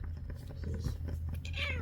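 A single short cat meow near the end, fairly faint over a low steady hum and some soft background noise.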